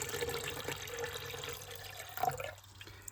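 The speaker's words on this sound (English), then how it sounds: "So first step is to add a water to your kettle." Water trickles and splashes faintly into an electric kettle, a quiet steady pour with small drips, heard alone.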